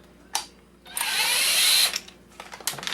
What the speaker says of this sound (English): there's two security screws here. Let's see if we can unscrew them easily enough.